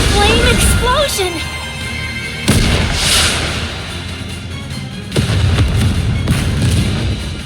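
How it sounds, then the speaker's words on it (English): A flame explosion in the video game Goddess of Victory: Nikke, with loud booming blasts and artillery-like bursts that recur several times under a voice and game effects. "What an explosion!"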